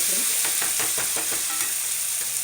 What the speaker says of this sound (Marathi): लसूण चांगलं फ्राय होतं आहे